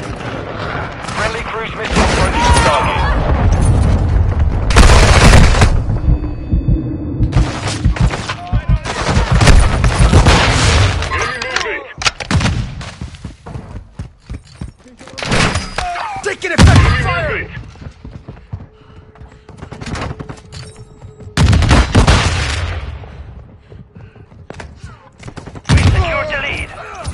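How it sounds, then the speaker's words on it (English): Heavy explosions and gunfire roar in a Call of Duty Modern Warfare 2 10v10 multiplayer match as a cruise missile strikes, with loud booming blasts and rattling automatic fire in bursts and brief quieter gaps between them. "Friendly cruise missile approaching target."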